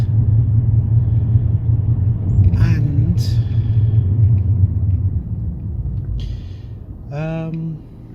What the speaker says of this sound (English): I'm driving and talking at the same time